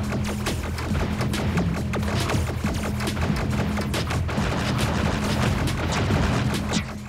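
Tanks firing in the Lil Tanks side-scrolling arcade shooter, rapid repeated gunfire bursts and booms over a looping electronic game soundtrack, dense and continuous throughout.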